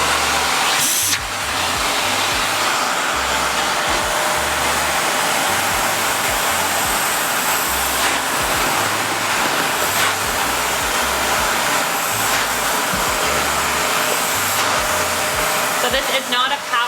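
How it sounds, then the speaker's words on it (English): Shark NV360 vacuum cleaner with a non-powered upholstery attachment lined with velvety material, sucking pet hair off dark fabric; a loud, steady roaring whine that runs throughout with faint rhythmic bumps underneath. "we're going to use the upholstery attachment on the vacuum and see how it does to suck it up"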